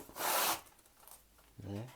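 Scissors cut and rasp through the packaging of a Stikbot dino movie set box, a loud scraping burst followed by quieter rustling, then a voice begins speaking at the end.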